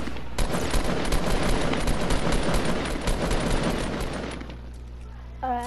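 Sustained, dense gunfire from a Fortnite match, heavy and continuous for several seconds before thinning near the end, with a player's voice mixed in.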